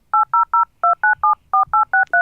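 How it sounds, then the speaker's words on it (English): DECtalk speech software plays telephone dialing tones: ten crisp DTMF beeps, each pair of pitches steady, in quick groups of three, three and four, loud and clean with nothing else heard. "Dial telephone numbers"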